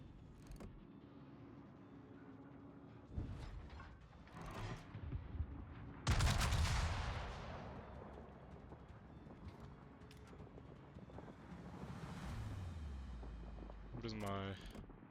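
A naval gun salvo booms in World of Warships, a sudden heavy blast mid-clip that rumbles away under ongoing engine and sea ambience, with a player talking over the game sounds.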